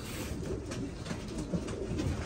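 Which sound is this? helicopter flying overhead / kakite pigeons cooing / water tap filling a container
kakite pigeons cooing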